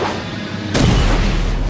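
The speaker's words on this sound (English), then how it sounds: "We're only hearing the explosion." A loud, sudden boom from an explosion in an animated fight scene erupts after a short lull, then rumbles on as sustained low roar and broadband noise for about a second before cutting off.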